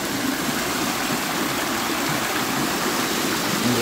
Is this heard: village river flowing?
yes